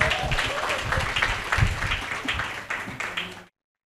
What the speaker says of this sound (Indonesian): Sekali lagi beri aplaus untuk Bung Rocky Gerung.